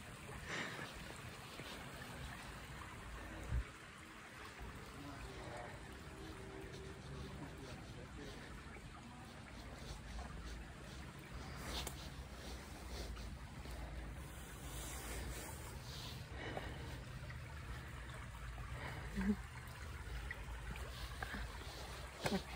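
Creek water flowing through a wooded area, a steady broadband rush with wind buffeting the microphone and occasional louder splashes.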